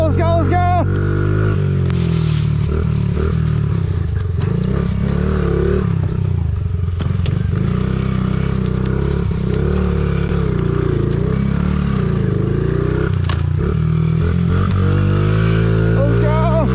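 A Honda CRF50 pit bike engine runs hard through laps on a dirt track, a loud continuous buzzing drone that rises and falls as the throttle works, close to the mic throughout.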